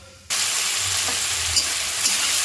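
Ground spice paste drops into hot oil with fried cumin seeds, and the sound jumps from quiet to a loud, dense, close sizzle that holds steady with faint stirring ticks.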